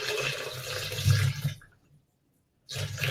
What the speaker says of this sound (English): So I'm basically pouring in water.